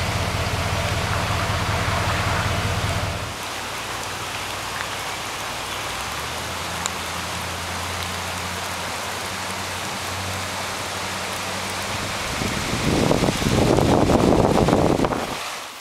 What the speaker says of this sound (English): You can see the stonework and how fast the water's running.